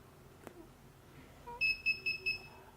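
An X9 GSM alarm panel beeps as it is armed: a sharp click, then a short run of four clear, evenly spaced high electronic beeps, close and fairly quiet in a still room.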